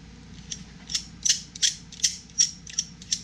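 A muzzle compensator is screwed onto a rifle barrel in a machine-shop setting, giving a series of small, crisp metallic clicks and scrapes at a fairly even pace, close up and without speech.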